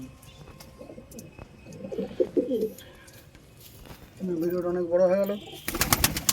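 Pigeons coo close by in short throaty bursts, one fuller rolling coo standing out near the end, while someone speaks over the birds and a sharp burst of noise cuts in at the finish.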